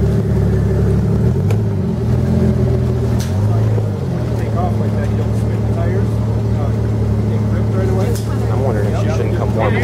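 A Jeep engine revs and labours while climbing an off-road trail, loud and close and rising and falling with the throttle, as people talk over it.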